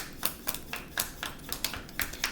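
Flimsy tarot cards being shuffled, a run of quick crisp riffling bursts about every quarter second, close and fairly quiet with no talking.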